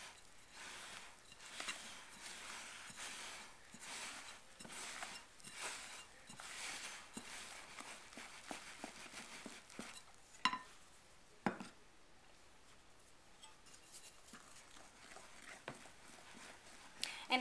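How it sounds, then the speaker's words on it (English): Bread dough for sweet skull bread being stirred in a bowl, with a steady run of soft knocks and scrapes that grow sparser and quieter toward the end. "I'm going to keep stirring."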